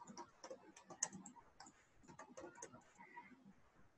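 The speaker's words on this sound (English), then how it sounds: "So I'm just typing." Quick, irregular typing on a computer keyboard at a desk, with soft clicks and taps in uneven bursts. The keystrokes are fairly quiet and stay close, with no talk over them.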